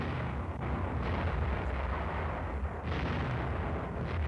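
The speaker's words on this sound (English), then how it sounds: "These tanks are firing at tar barrels over half a mile away." Army tank guns fire at tar barrels over half a mile away at a military range, a continuous heavy rumble with distant booming blasts rolling through it.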